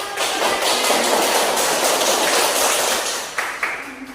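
A class of students applauds during a micro-teaching lesson: a loud, dense wash of clapping hands that holds steady for several seconds, then thins out and ends with a few last claps.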